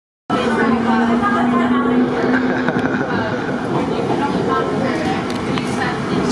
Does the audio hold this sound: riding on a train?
yes